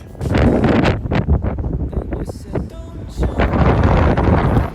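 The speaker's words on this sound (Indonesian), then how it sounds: "di sini ternyata anginnya kenceng banget seperti yang kalian dengar di footage-footage ini" Strong wind on a rooftop batters the microphone in loud, gusting rumbles and buffeting bursts that rise and fall without a break, with rustling flaps and faint background noise mixed in.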